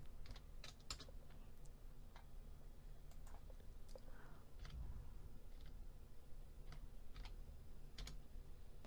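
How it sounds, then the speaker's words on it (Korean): Computer keyboard being typed on in a quiet room, scattered crisp key clicks and taps in irregular bursts, some heavier presses like enter or space, faint and close. "엔터. 스페이스바 누르시고요. 엔터."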